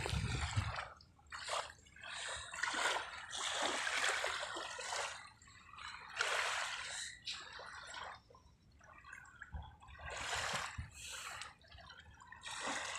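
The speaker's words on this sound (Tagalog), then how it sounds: "Malinaw ang tubig, sarap pakinggan ng galaw ng tubig" Soft, clear water at a beach trickles and splashes in irregular bursts, gentle and close, with brief quieter pauses between the flowing sounds.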